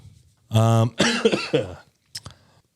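A single sharp cough lands after a burst of speech-like voicing, close and fairly loud, followed by a shorter second throat sound and then quiet.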